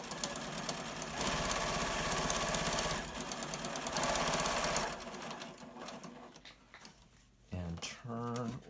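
A sewing machine stitches down the pleats of a cloth face mask, a rapid mechanical rattle in bursts that speeds and slows, with a voice talking at the end.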